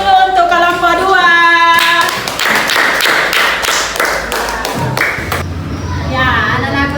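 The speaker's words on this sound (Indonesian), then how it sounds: "Tepuk tangan juga dulu untuk kelompok 2" Children and a teacher in a classroom clap for a group during a lesson game, a loud run of sharp, uneven claps after voices, with children's chatter at the start and end.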